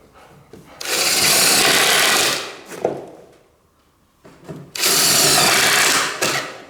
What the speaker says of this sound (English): I'm going to go ahead and just countersink